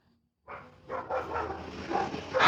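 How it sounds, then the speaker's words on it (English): Dogs bark repeatedly, with several loud, close, overlapping barks and yips following a brief quiet start, building toward the end. "These dogs."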